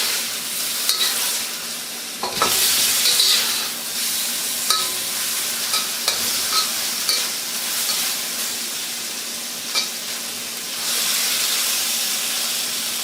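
Food browning in a hot wok, a loud, dense sizzle and hiss running throughout with repeated scraping and clattering of a spatula stirring, up close and free of speech.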